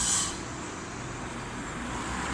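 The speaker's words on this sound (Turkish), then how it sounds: "Bu ne kadar çok araba geçiyor Göksu" Steady road traffic noise from cars passing along a street near a park, a continuous broadband wash with a brief brighter hiss at the start, moderately close.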